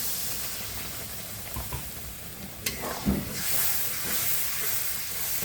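A chili spice mixture fries and is stirred in a pan for a fish dish with lemon leaves, giving a continuous hiss and sizzle with a sharp scrape and a few spoon knocks midway, all without talk.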